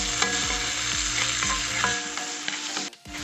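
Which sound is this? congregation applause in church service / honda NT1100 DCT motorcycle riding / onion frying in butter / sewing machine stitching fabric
onion frying in butter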